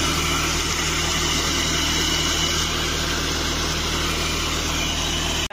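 A motorcycle engine runs steadily in gear with its rear tyre spinning while the bike is washed. A loud, continuous hiss of spraying water mostly covers the engine's low hum for the whole stretch.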